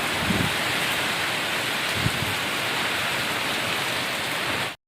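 Heavy rain pours down steadily on a village farm, a dense, loud hiss that holds without a break for several seconds and then cuts off abruptly.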